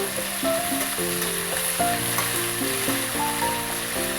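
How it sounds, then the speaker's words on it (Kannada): Capsicum frying in oil in a pan, a steady broadband sizzle running throughout with tonal music playing over it; no voices. "ಇದನ್ನ ಸ್ವಲ್ಪ ಎಣ್ಣೆನಲ್ಲೇ ಫ್ರೈ ಮಾಡ್ಕೋಬೇಕು"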